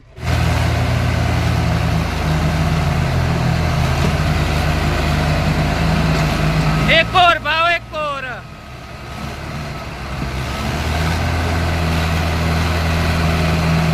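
Several tractors, including a Swaraj, stuck in mud while hauling soil, their heavy diesel engines idling and revving in a steady low rumble, with people shouting over them and a brief spell of loud talk in the middle.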